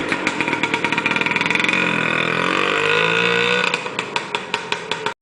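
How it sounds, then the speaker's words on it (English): A Piaggio Ape auto rickshaw's small engine buzzes nearby, rising from pulsing putters to a steady revving drone, then dropping back to a chugging idle. "it got its name from the bee-like sound the engine made"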